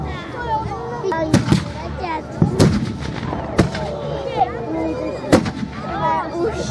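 Tarasnice and howitzer cannons fire at a reenactment of the 1434 Battle of Lipany, booming roughly once a second at intervals, loud and sharp with crowd noise between, while a narrator talks over them.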